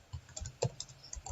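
Fingers tap a computer keyboard in short irregular bursts of clicks, close and fairly quiet, with no one speaking.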